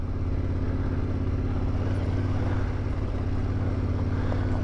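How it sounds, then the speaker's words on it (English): A Yamaha Tenere 700 motorcycle engine chugs steadily uphill in low gear, a loud, constant close drone with wind rumble and no talking. "And the T7 just chugs up the hill."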